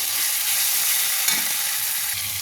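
Prawns sizzle and crackle in hot oil as they are stirred in a pan, a dense, close, continuous frying hiss with a soft scrape of stirring and no talking.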